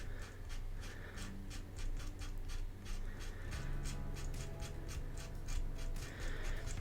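Tattoo needles scratch quick, short fur strokes into scratchboard for a red panda drawing, a faint steady rhythm of dry scraping ticks heard up close with no talking.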